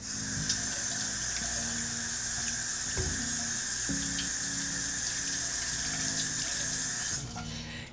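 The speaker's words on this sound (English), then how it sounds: "Wash my hands." Steady running tap water pours into a kitchen sink while hands are washed, a continuous close hiss with a few soft clunks, ending abruptly near the close.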